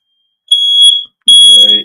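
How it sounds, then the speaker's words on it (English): A household smoke detector going off beside a flaring fire, giving two loud, piercing, high-pitched beeps with a short gap between them, with a voice talking under the second beep. "I'm gonna see if I could get the smoke detector moved."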